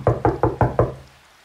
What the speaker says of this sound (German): dann klopfte es noch einmal sehr laut und deutlich